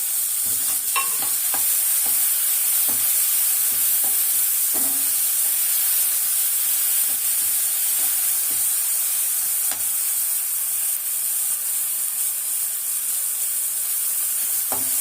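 Ginger garlic paste sizzles steadily in hot oil in a pan with tomatoes for a gravy, a continuous bright hiss broken by occasional scrapes and taps of a stirring spoon, close and alone with no talk.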